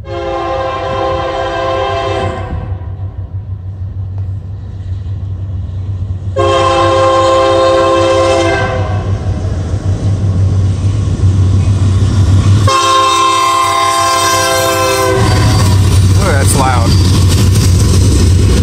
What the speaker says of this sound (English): Oh, that sounds like a Union Pacific.